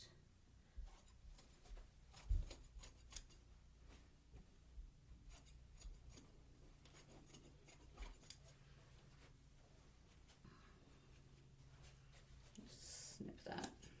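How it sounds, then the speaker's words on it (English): Scissors snip through fabric while the waist of a draped bodice is trimmed, a series of quiet, crisp cuts scattered through the stretch, with a voice speaking softly between them. "It might help you to trim the waist now."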